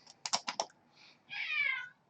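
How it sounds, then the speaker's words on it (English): A cat lets out a drawn-out meow close by after a quick run of sharp clicks like keyboard tapping, with a short softer chirp between them in an otherwise quiet room. "Oh, and there's my cat."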